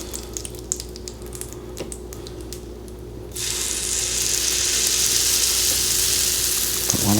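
Stick of butter sizzling on a hot pancake griddle, a steady hiss that jumps sharply louder partway through and holds, with a few faint clicks and scrapes beforehand.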